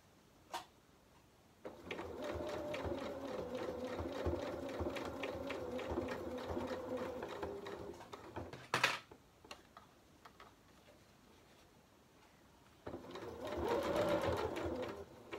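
A sewing machine runs a quick stitch along a cushion back, a steady rapid mechanical whirr with ticking needle strokes in several bursts separated by short pauses, close and moderately quiet, with a brief clunk midway.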